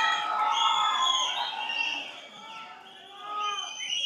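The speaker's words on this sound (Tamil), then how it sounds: "Please ஒரு பெரிய கைத்தட்டல்." Large crowd at a Tamil film event cheering, whistling and shouting as a star comes on stage, a dense, loud swell of high screams and whistles that dips and rises again.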